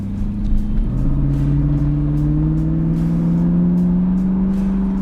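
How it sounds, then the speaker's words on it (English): A 2002 Chevrolet Camaro convertible's engine idles steadily, then its pitch rises as it revs up and holds at a higher, sustained drone, loud and close. "But this engine runs great."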